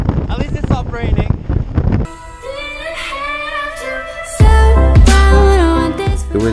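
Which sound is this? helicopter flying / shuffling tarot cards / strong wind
strong wind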